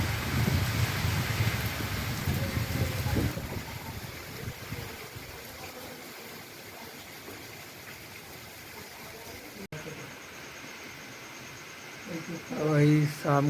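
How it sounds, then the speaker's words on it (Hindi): Rain and wind pick up again, a loud rush at first that eases into a steady hiss of falling water, with a brief voice near the end. "फिर से देख लो, हवा और पानी फिर चालू हो गया है।"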